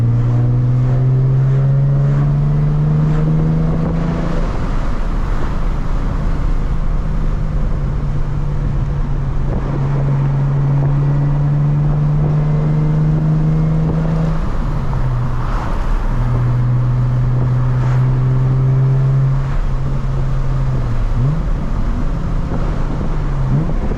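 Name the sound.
Nissan 350z car driving and accelerating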